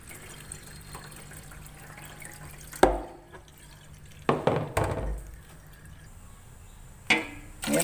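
Soaked sorghum grain being rinsed in water, with sloshing and pouring splashes in a few separate bursts over a quiet background of faint drips.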